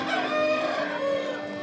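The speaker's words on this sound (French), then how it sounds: "un coq." A rooster on the island of Raiatea in French Polynesia crows once, a loud, close, drawn-out call heard clearly on its own.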